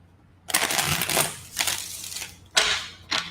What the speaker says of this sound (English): It was a pretty smooth shuffle.